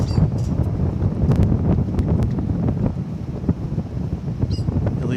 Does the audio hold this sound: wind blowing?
yes